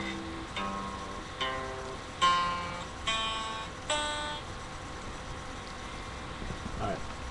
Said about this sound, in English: your guitar needs to be in drop C tuning, so each string should sound like this.